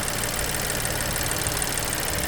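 Small 3-cylinder turbocharged engine of a 2021 Chevrolet Trailblazer RS idling, a steady low rumble with slight knocking texture at moderate level, continuous and unbroken.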